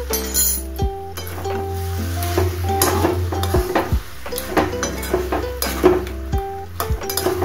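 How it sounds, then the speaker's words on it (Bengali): Fish head curry with potato, eggplant and coriander being stirred in a pan, with a steady run of metal-on-pot scrapes and clinks alongside a sustained musical tone and a faint sizzle. "ধনেপাতা দিয়ে আমি একটু তরকারিটা নাড়াচাড়া করে দিচ্ছি।"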